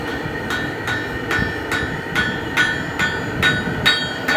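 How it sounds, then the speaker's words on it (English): At a blacksmith shop, a hammer strikes metal being forged into an implement, about ten evenly spaced, ringing blows close up at a steady rhythm, with no voices. "Now you kind of get an idea how hard you have to hammer to make something happen."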